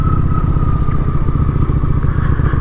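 A Honda Shadow 750 ACE motorcycle rumbles steadily while riding, a low continuous engine drone with a constant whine on top, close and loud, no voices.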